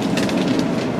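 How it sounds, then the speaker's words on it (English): A train rolls past close by, a dense steady rumble with rhythmic clacking of wheels on the rails. "Our train."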